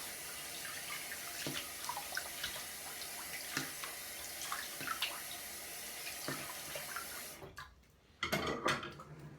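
Cold water streams from a tap into a sink during a wet shave, a soft steady rush with small clinks, cutting off briefly before resuming in louder splashes.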